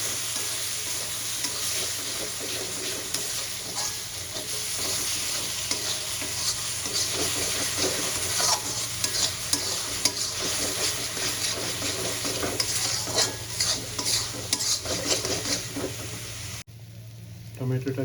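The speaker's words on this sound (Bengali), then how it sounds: "টমেটো পেস্টটা দিয়ে আমি খুব ভালো করে কষাতে থাকবো" Tomato paste stir-fried in a pan for a jackfruit and prawn curry, a steady loud sizzle with constant spatula scraping and stirring throughout, close by, cutting off sharply near the end.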